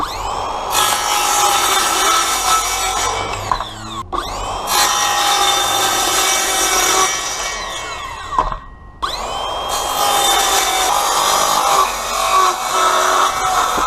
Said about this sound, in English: now we'll go ahead and cut that out.